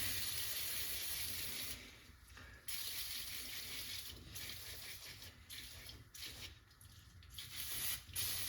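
Aerosol spray can, nearly empty, hissing steadily in long bursts with short pauses while coating a less-lethal item to a polished silver finish, close and continuous.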